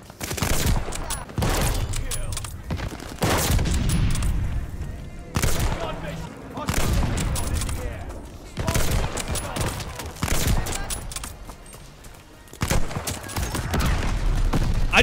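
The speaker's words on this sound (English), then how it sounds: "I just blew him up with a grenade." Grenade blast and gunfire in a first-person shooter game, with a sniper rifle and V2 rockets in play: a run of loud, heavy bursts and booming shots repeating across the clip, close and dense, with a voice talking over them.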